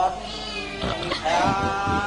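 A cat meowing in a comedy-horror scene, two or three short, close cries over background music and a faint voice.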